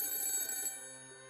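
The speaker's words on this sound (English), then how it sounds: "my cell phone, sitting on the table, started ringing." A cell phone resting on a table rings with a bright electronic tone that is loud at first and then rings on more softly with steady sustained notes.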